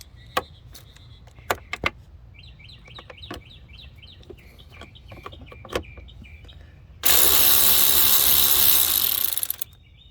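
Ratchet with an extension and 8mm socket loosening a throttle body clamp on a 2008-2012 Chevy Malibu, a few sharp clicks followed by a fast rattling ratchet run of a few seconds, close and loud.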